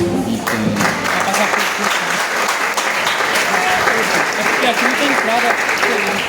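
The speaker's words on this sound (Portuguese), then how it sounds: "Então vamos aplaudir Jesus Cristo." A church congregation claps together during a family service, a dense, steady wash of applause filling the room for several seconds, with voices mixed in underneath.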